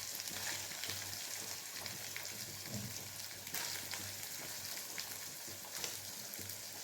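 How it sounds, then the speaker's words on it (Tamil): Chopped onion sautés in a pan for a spleen fry, giving a steady, even sizzle and crackle close up with no talking. "வெங்காயம் நல்லா வதங்கட்டும்."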